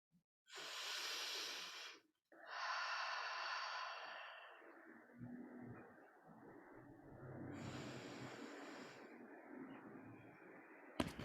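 Slow, full breaths drawn in and let out during a yoga squat or toe-balance pose, a few long hissing inhales and exhales close to the microphone in an otherwise quiet room.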